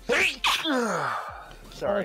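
A single sharp, close sneeze bursts out at the start. A person then speaks briefly.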